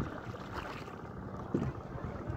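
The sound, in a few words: boat moving on water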